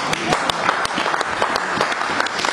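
Church congregation applauding during a sermon, a dense, steady wash of many hands clapping close by, with scattered voices mixed in throughout.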